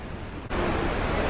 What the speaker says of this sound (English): Oh, just look at the waterfall.